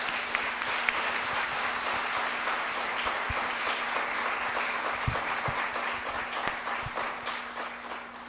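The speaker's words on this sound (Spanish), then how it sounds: "Vamos a darle un fuerte aplauso," An audience at a law conference claps for the three speakers, a sustained, even round of applause with some sharp individual claps standing out, fairly distant, fading slightly at the end.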